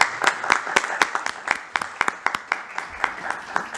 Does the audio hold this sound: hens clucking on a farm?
no